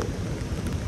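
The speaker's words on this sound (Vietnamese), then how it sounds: "Mưa dầm." Steady, heavy rain in Nha Trang, Vietnam, a dense, continuous hiss of close downpour with no breaks and no voices.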